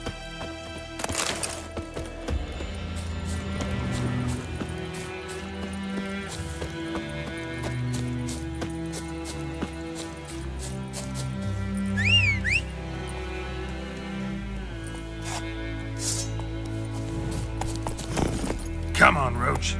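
Roach, the horse in the video game Witcher 3, gallops with a rapid, steady clip-clop of hooves that runs throughout, layered with background game sound and a brief whistle-like chirp midway.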